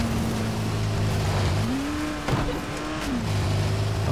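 A car driven in the video game Dying Light The Following, its engine droning steadily and shifting pitch up and back down mid-way, with a brief thud or bump, loud and continuous.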